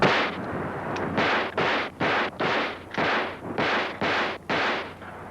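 A run of about eight loud, sharp .357 Magnum gunshots in quick succession, each ringing with a broad rushing burst, close and forceful with no talking.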